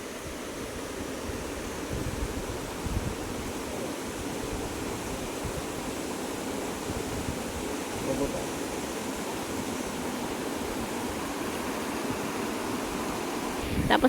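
A stream flowing beside farmland gives a steady, even rushing wash of water that stays constant and moderately loud for the whole stretch.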